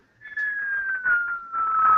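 A voice imitates a signal whistle catching the wind: a single sustained whistled tone, gliding slowly downward over about two seconds, fairly loud and close, with no other sound.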